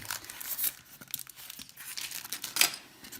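A parcel holding a replacement display for a Cat S60 phone's thermal camera is unpacked, with close, crisp tearing and crinkling of packaging in irregular bursts, one sharper rip standing out near the end.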